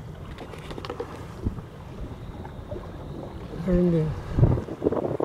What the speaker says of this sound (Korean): 바람이 너무 세가지고 흔들려서 안 돼.